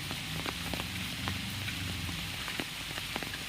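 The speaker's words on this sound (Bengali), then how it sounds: "গত 3 দিন ধরে এমন বৃষ্টি হচ্ছে আমাদের এখানে, প্রায় বন্যারই মতন অবস্থা" Heavy rain pours steadily during days-long flooding that has submerged paddy fields, a dense close hiss with scattered sharper drop impacts throughout and no voices.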